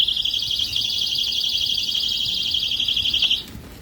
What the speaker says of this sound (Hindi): अलार्म सिस्टम मेरे पास निकला है, इमरजेंसी अलार्म सिस्टम ₹450 का मिलेगा